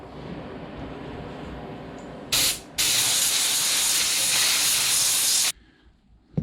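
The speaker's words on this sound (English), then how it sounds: "I blow the residual out of there to make sure there's nothing left in there" Compressed air from a blow gun blasts leftover residue out of a grease fitting hole on a Toro Grandstand mower, making a loud, close hiss: one brief burst, then a steady blast lasting about three seconds before it cuts off.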